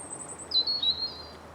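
Small birds coming in to feed in a spring garden give a few thin, high chirps and a short tweet, clear and fairly close over a faint hushed background.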